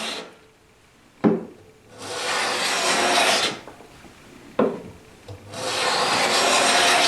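Hand plane shaving across plywood end grain, long rasping strokes in a slow rhythm, each starting with a sharp catch as the blade bites, close and loud with quiet gaps between passes.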